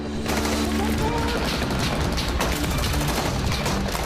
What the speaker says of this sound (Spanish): Comienza un feroz tiroteo